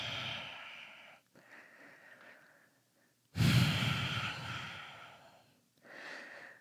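Breathing during a vinyasa yoga flow: soft audible breaths, then a strong, forceful sigh-like exhale in the middle and a gentler one at the end, close up.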